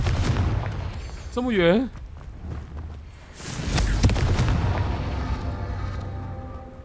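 Confringo fire spells cast in the Hogwarts Legacy video game crack out as booming, fiery blasts, with a sustained burst in the middle, mixed with game effects and a player talking over them.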